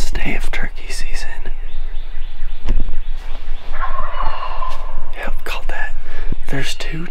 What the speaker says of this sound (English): They just kept on gobbling.